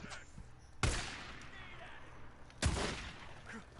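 Enemy gunfire in the video game Days Gone: two sharp, loud shots spaced well apart over faint background game ambience.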